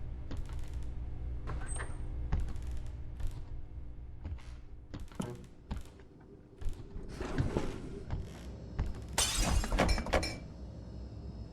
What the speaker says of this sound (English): I just heard him shatter glass.